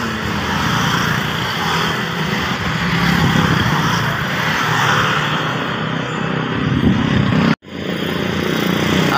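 Motorcycle tricycles passing on a road, a continuous loud engine drone that swells and fades as vehicles go by, cut by a brief sharp drop near the end.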